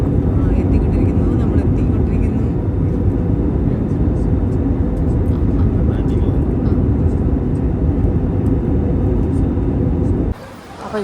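A passenger jet descends toward landing in Bali, its cabin engine roar loud and steady throughout, with voices talking underneath, before the noise drops abruptly near the end.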